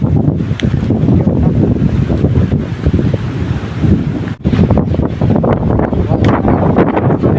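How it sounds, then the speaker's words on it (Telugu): Rain pouring in a thunderstorm, a loud continuous wash of rainfall mixed with heavy wind buffeting on the microphone, steady throughout with a brief dip midway. "వర్షం వస్తుంది."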